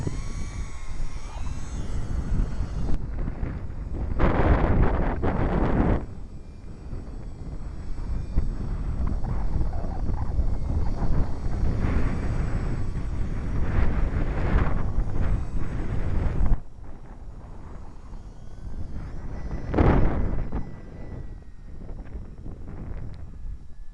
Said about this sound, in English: That's some pretty good wind.